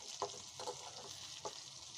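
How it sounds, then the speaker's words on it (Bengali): Onions fry in hot oil with bay leaf and panch phoron for a Bengali dal tempering, giving a steady, close sizzle broken by a few brief stirring scrapes. "এভাবে মোটামুটি পেঁয়াজগুলো লাল হওয়া পর্যন্ত আমি অপেক্ষা করছি।"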